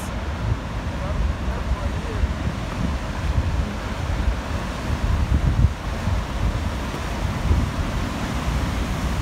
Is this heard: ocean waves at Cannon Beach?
yes